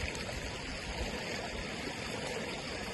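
Flowing river water runs beside a riverside cooking spot in the hills, a steady close rushing wash with no breaks and no voices over it.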